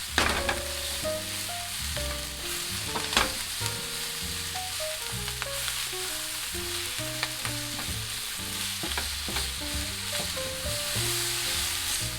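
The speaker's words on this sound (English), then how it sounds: "Keep stir frying them for 30 seconds until the bean sprouts start to soften a little." Steady, close sizzling of chicken breast, vegetables and bean sprouts stir-frying in a hot pan, with occasional scraping and clinks of a utensil stirring, over faint background music.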